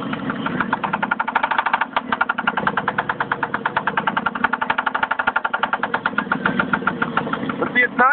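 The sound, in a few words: Jeep 4.7L engine idling with knock, possible timing chain slap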